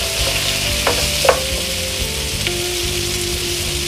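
Potatoes and capsicum frying in a pan sizzle steadily while a utensil stirs them, scraping a couple of times, with no voices.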